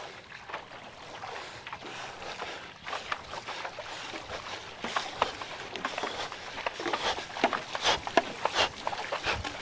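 A Black Project Hydro Sprint-X paddle digs into open water in a sprint, quick rhythmic splashing strokes that grow denser and louder toward the end, with light wind noise behind.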